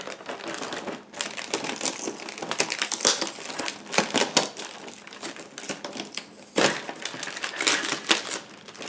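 Crinkly, tape-wrapped packaging of a Final Fantasy XV Ultimate Collector's Edition being handled, with a continuous run of close rustling, crackling and sharp tearing-like crinkles and a few louder bursts, without any talking.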